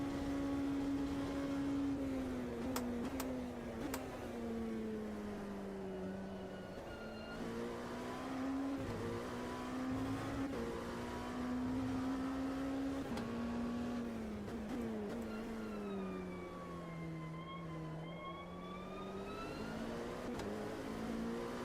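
LMP2 prototype race car engine in Automobilista 2, a steady loud drone that rises and falls with throttle and gear changes, with a higher whining tone climbing near the end; no talk.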